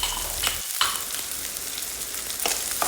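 Sauce seasoned with black pepper and oregano sizzling in a pan as it is stirred, a steady close frying hiss with a few brief scraping bursts, no voices.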